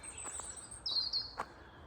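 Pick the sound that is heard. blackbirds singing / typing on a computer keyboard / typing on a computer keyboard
blackbirds singing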